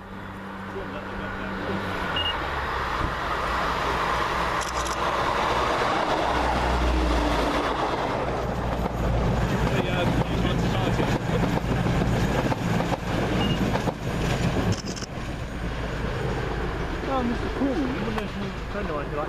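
A train engine rumbles past at Swinton with a loud, sustained drone and rhythmic rail clatter, while people talk over it.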